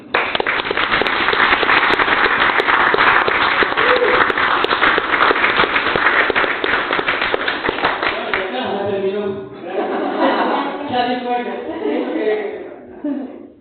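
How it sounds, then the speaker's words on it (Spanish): Strong audience applause at a community gathering, loud sustained clapping with whoops that runs for about eight seconds, then gives way to people talking and laughing over scattered claps. "Un fuerte aplauso para la querida Alma Fernández"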